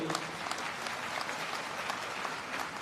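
Loud applause from the crowd at a panchayat representatives' conference welcoming a speaker, dense continuous clapping throughout the brief moment.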